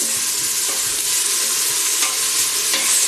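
Halloumi pieces frying in an Instant Pot on sauté, a dense, loud, even sizzle with occasional soft scrapes of stirring, close and without talk.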